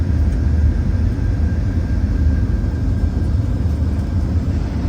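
Boeing 747 engines at takeoff thrust during a crosswind takeoff roll give a loud, continuous low roar with a faint high whine, steady throughout and free of talk.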